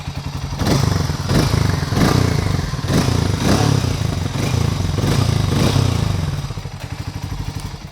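Exhaust note of a Hero Mavrick 440 motorcycle idling and blipping nearby: a steady, deep throbbing rumble with rhythmic pulses and brief revs, loud and continuous with no talking over it.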